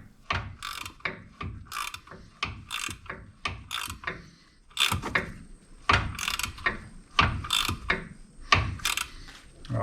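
Rapid bursts of ratcheting from a ratcheting box wrench turning bolts while fitting new shocks on a 1994 Ford F-150, close and crisp, repeated clicking strokes with short pauses between them, no talk.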